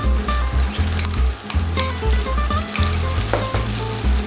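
Garlic, green onion and green pepper sizzle and crackle steadily in a hot pan, loud and close, with occasional stirring scrapes and no voices.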